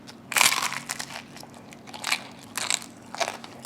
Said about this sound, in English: The tomato soaks in, softens the bread, but it's still got some crunch.